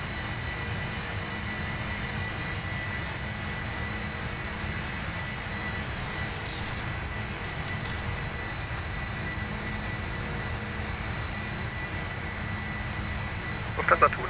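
Jet airliner engines of a Lufthansa flight climbing out after takeoff from Frankfurt's center runway hum as a steady, moderate cabin drone, a continuous low rumble under a voice talking.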